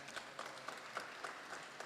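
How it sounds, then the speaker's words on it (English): At a donors and scholars reception, guests give a round of applause, a faint, even patter of many hands with a few sharper claps standing out, heard from some distance. "Let's give them another round of applause."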